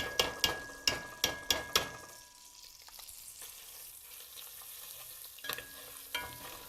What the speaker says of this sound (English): I like to brown my paste